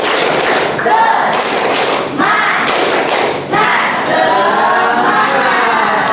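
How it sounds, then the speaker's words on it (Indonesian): A classroom of children claps together in rhythmic bursts, loud and close, with brief pauses between the rounds of clapping, following a teacher's clap-count cues. "Tepuk semangat."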